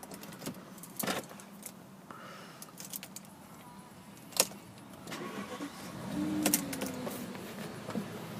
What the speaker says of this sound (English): if we just get the car started